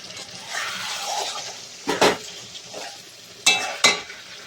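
Spice paste of green chilli, cashew, ginger and poppy seed being stir-fried with prawns and ridge gourd, a soft steady sizzle broken by a few sharp scrapes and clinks of a spatula against the pan.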